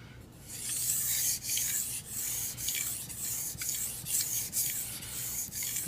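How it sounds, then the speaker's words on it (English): A kitchen knife stroked back and forth on a fine-grit Japanese waterstone, a soft, steady hissing rub with regular stroke pulses, close up and unaccompanied by talk. "The sound the stone makes is much softer, as it is taking away less metal and creating more of a fine edge."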